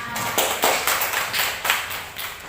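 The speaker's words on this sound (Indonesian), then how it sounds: "Tepuk tangan." A class of fifth-grade pupils clapping their hands in a classroom, a short burst of uneven claps coming in several loose waves, fairly close and with no talk over it.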